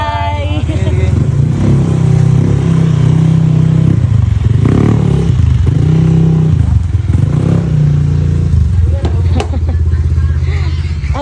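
A motorcycle idles loudly nearby, then revs and rumbles as it pulls away, while several people talk and call out farewells over the engine.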